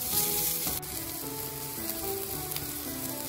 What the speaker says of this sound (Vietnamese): ta sẽ cho phần tôm khô vào và đảo đều lên, nêm nếm gia vị